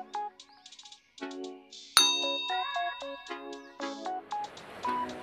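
A run of bright electronic dings and chimes, a sharp clang near the middle, then more ringing tones fading out, with no voices.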